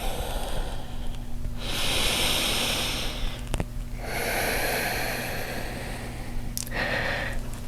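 Slow, deep yoga breathing, each long airy inhale and exhale rising and falling in turn, close and clear, roughly three full breaths with brief quiet gaps between them.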